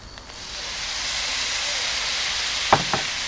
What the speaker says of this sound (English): Let them fry for a couple of seconds